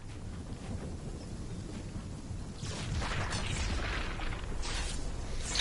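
Storm thunder in the Fortnite video game, a low continuous rumble that swells louder partway through with crackling, rain-like hiss on top.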